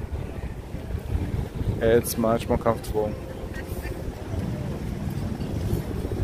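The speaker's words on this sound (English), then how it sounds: "as soon as you're not directly in the sun, it's windy and it's colder" Wind blows along the Hudson River on a walk south toward Battery Park, a steady rushing rumble against the microphone with a person talking briefly over it.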